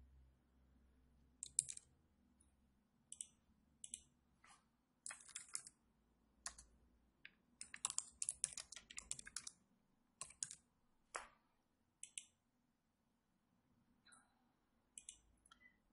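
A message being typed on a computer keyboard, heard as soft, close key clicks that come in short bursts with pauses between them, in an otherwise quiet room.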